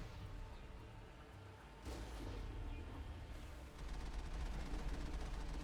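Rapid machine gun fire from the Mako vehicle in the video game Mass Effect, a dense rattling burst that grows louder and steadier partway through over a broad background roar.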